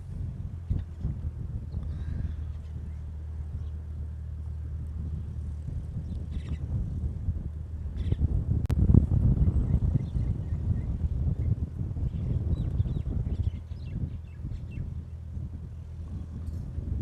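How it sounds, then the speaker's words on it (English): Wind blowing outdoors at a Honolulu airport plane-spotting spot in Hawaii, a steady low rumbling buffet against the microphone that swells for a few seconds midway, with no speech. "Wind."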